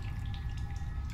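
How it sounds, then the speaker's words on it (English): Water drips in The Solus Project video game, a faint, steady trickle over a low ambient rumble with no voices. "Oh, I hear water."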